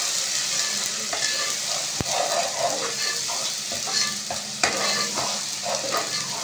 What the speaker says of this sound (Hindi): अब हम इसमें थोड़ा सा अदरक लहसुन पेस्ट डालेंगे